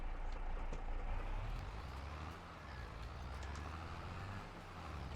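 A farm tractor pulling a seeder on a dairy farm rumbles steadily with a low, continuous engine drone, a constant mechanical hum and faint rattling throughout, without pauses.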